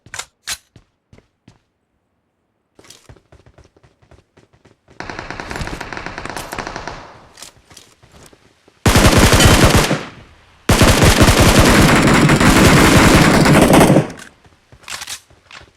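Automatic gunfire in a video game: scattered single shots and a medium burst at first, then two long, loud, sustained bursts of rapid fire close up, followed by a few more isolated shots.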